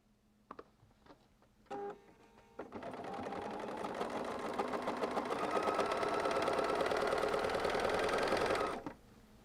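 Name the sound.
sewing machine sewing quilt block pieces together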